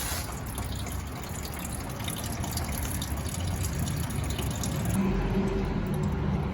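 Engine coolant drains from the radiator drain plug of a Ford F-250 Super Duty V10 6.8 into a bucket, a continuous splashing trickle of liquid, steady and close throughout.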